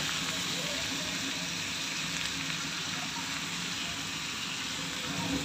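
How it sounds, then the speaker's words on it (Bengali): A pot of taro stem curry with rohu fish bubbles at a boil, a steady dense hiss and burble like light rain, close and continuous, with a voice speaking over it. "এদিকে কচুরমুখিটা বলকে এসে গেছে"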